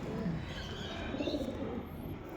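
Pigeons at a loft, including tournament flying birds, cooing in low soft murmurs that run continuously for a couple of seconds, close by with a faint background hiss and no talking.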